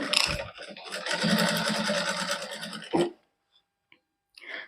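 A sewing machine stitches lace trim onto a hand-worked suit, a steady, close whirring run of about three seconds that stops abruptly, followed by quiet with a few small clicks and a brief rustle of fabric.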